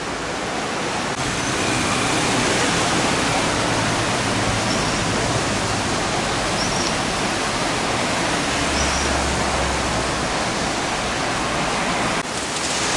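Steady rain falling outdoors during a church revival gathering in Cachoeiro de Itapemirim, a dense, even hiss that stays loud and unbroken throughout.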